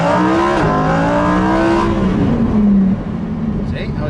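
A Lamborghini Huracán Performante on a track driving experience accelerates hard up close, the engine note climbing through the gears with a clean upshift, loud and continuous under a voice talking inside the car.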